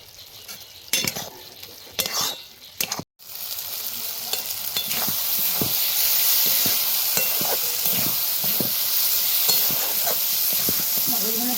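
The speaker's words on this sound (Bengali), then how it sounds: "নামাবার আগে সামান্য একটু চিনি দিয়ে নাড়াচাড়া করে নামিয়ে নেব" Beef brain bhuna being stirred in a pan with a little sugar added, giving a loud continuous sizzle and repeated scraping clinks of a spoon against the metal, close up, after a few sharp knocks at the start.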